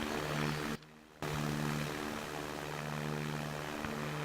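Steady propeller airplane engine drone from the SimplePlanes flight game, a continuous loud hum with a short sudden drop in level near the start before resuming evenly.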